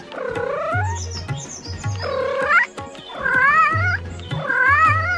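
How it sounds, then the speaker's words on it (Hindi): Cartoon cat meowing and caterwauling in a kids' comedy cartoon, four drawn-out wavering meows in a row, loud and close over a low musical backing. "अरे म्याऊं म्याऊं करके मेरे पीछे पड़ी हो, मुझे जाने दो"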